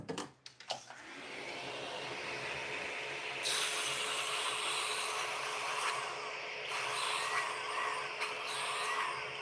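A bevel sander with a new sanding pad grinds against a DV8 Wicked Collision bowling ball in a pro shop. After a few sharp starts it settles into a continuous, close, loud whirring hiss whose pitch shifts slightly as the ball moves.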